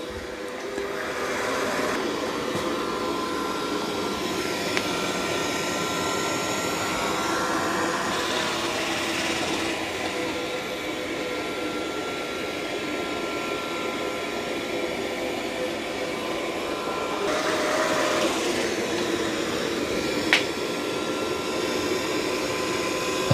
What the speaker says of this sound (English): It's still mopping, it's just not vacuuming.